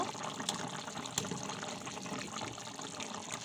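A pot of coral fish curry bubbles at a rolling boil, giving a soft, steady, watery burble and simmer that is faint and close, with no voices.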